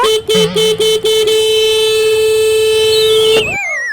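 A vehicle horn honks in traffic: several short toots, then one long sustained blast of about two seconds that cuts off abruptly. It is loud and close, with no talking over it.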